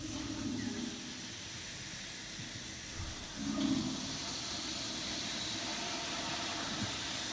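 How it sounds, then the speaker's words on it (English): A toilet flushes in a restroom, heard as a steady rushing hiss of water that surges briefly partway through and then keeps running evenly, with no talking. "I'll flush the toilet for you, don't worry."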